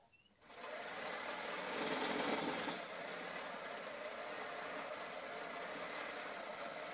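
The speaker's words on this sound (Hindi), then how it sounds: "अब हम सलवार सिला रहे हैं।" A sewing machine stitches a salwar for a ladies' suit, starting up after a brief quiet and then running as a fast, continuous, even whirring drone at close range for several seconds, with no voices.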